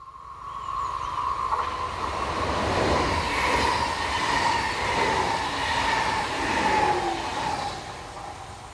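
A Class 445 electric multiple unit passes on a Rheine to Braunschweig service, a steady loud rumble and hiss of wheels on rail that swells around the middle and holds through the whole pass, with faint squeal tones and no voices.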